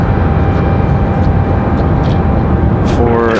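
A Boeing 757 departing the runway at Raleigh-Durham International Airport, its jet roar a loud, steady broadband rumble with a faint rising tone near the end.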